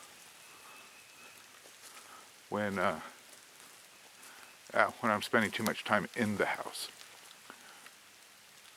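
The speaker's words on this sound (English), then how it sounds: "Okay, so there's the rain." Rain falls steadily outside a house as a faint, even hiss beneath a man's speech.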